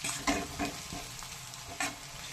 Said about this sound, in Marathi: घरचा कुटलेला जो असतो ना काळा मसाला, तो परतून घेते मी पहिले छान.